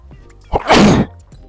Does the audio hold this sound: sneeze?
yes